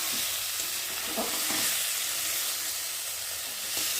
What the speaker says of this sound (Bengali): চলো এখন সবজিটা ভালো করে ভেজে নিই আলুর সাথে।